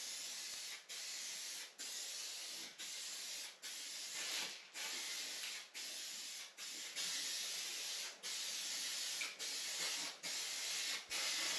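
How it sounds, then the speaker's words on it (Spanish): Aerosol spray paint hisses onto a badly damaged car bumper with flaking paint, held close in a dozen short, evenly spaced bursts of steady hiss separated by brief pauses. "dejando un espacio entre el spray y el parachoques de unos 15-20 centímetros"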